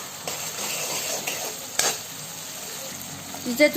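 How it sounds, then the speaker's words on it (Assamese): Oil bubbles and sizzles in a pan of masala for chicken tikka, a steady close hiss broken by a brief stir and a few clinks of utensil against pan toward the end. "এইখিনি তেলখিনি ধুনীয়াকৈ ফুটি আহিছে, এনেকুৱাতে এবাৰ লৰাই দিওঁ"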